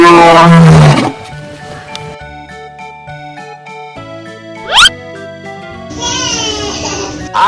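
A lion roar from an animal toy sounds once, a loud burst among electronic toy music and jingles, with a child's babble at the start.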